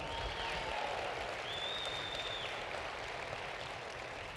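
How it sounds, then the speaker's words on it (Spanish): A church congregation applauds during a sermon, a steady, fairly faint wash of clapping from a crowd that holds evenly throughout, with no voices over it. "¿A alguien le da un aplauso al Señor?"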